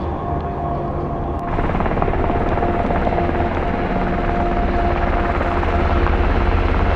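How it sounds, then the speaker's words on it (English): A military helicopter at a base in Afghanistan roars with a dense, continuous rotor and engine drone that swells louder after the first second and stays strong and close. "Helicopters were constantly flying in and out, as well as Hercules aircraft."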